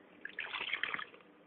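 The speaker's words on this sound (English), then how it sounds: "I'm going to add water to this remaining tight batter" Water is poured into a tight, thick batter of soaked ground urad dal, a short, faint splash and trickle lasting about a second with no talking.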